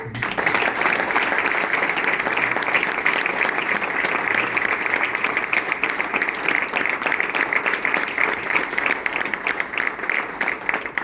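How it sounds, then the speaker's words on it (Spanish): An audience applauds after a speaker on stage asks for the applause to be repeated. The clapping is loud and sustained, a thick continuous wash of many hands lasting the full stretch with no pauses. "Así que te volvemos a repetir este aplauso."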